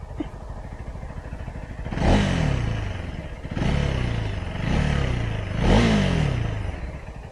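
A KTM Duke 390 motorcycle engine revs up four times in quick succession, each rising roar close by, with idling in between.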